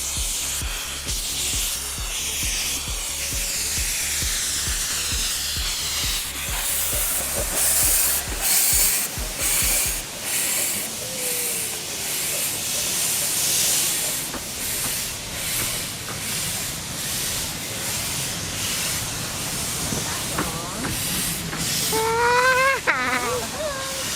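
Green Goddess, a steam locomotive on the Romney Hythe & Dymchurch Railway at an end-of-season parade, lets off a loud, sustained steam hiss, with rhythmic chuffing early on and a brief whistle near the end, over outdoor crowd noise.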